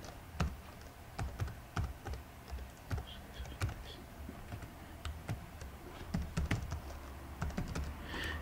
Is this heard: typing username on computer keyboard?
yes